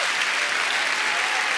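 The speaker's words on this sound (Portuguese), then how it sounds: "Vamos aplaudir essas vidas aqui," A church congregation at a worship service applauds, a dense, sustained wash of many hands clapping at even loudness for the whole short stretch, with no talk over it.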